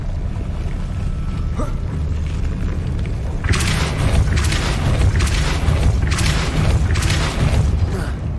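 A Depulso force spell in the video game Hogwarts Legacy hits with a series of loud, bursting impacts that repeat in quick succession over a steady low rumble, each one a sharp wash of noise.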